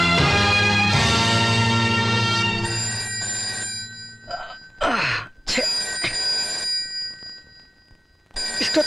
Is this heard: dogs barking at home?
no